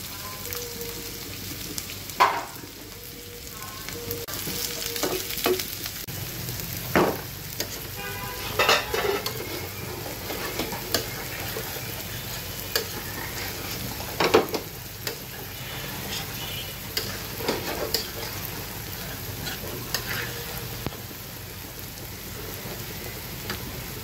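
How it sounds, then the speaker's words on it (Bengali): Chopped onions frying in a pan until crisp, a continuous close sizzle broken by repeated scraping knocks of a stirring spoon against the pan, no talking. "এখন আমি পেঁয়াজ কুচি এটা আমি একটু বেরেস্তার মতো ভেজে নিব।"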